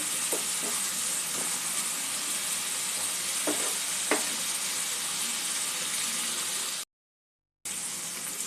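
Spice paste for a katla fish curry sautéing in a pan, a soft continuous sizzle with a few light clinks of stirring, a brief gap of silence near the end, no voices.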